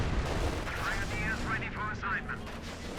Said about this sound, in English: This machine gun in the building causing a few headaches